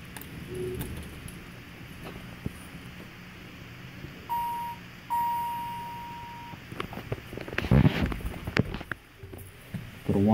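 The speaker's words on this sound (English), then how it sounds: "Ring the lantern, the bell indicator." Two clear electronic elevator bell tones ring out at an elementary school, a short one then a longer sustained one, followed by clattering and shuffling noises.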